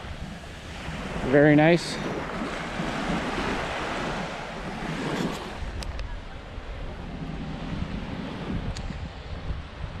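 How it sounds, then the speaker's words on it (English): Steady roar of ocean surf and wind in the Cayman Islands, with a brief spoken remark early on over the continuous wash of crashing waves. "also love hearing the sound of the waves crashing."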